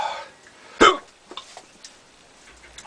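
A single sharp hiccup rises out of quiet room tone, followed by a few smaller breathy catches.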